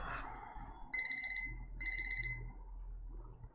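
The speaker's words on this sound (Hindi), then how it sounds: "अलार्म बेल बज गया" An alarm bell rings in two bright electronic bursts, each lasting about a second, over a low room hum with no talk.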